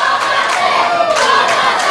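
A wrestling crowd at a One Night Only vs The Osirian Portal match roars and shouts in steady, loud waves while Amasis is trapped in a crossface chicken wing in the center of the ring.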